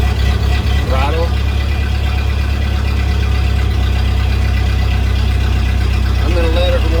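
A Ford Model A engine idles as it warms up on a cold morning, giving a loud, steady low rumble throughout. Someone speaks briefly over it.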